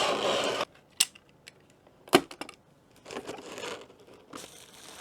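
Adhesive tape crinkles and rips in short bursts, with sharp tearing snaps and rustling of packaging in between, close and fairly quiet.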